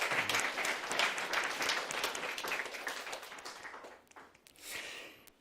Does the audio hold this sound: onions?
no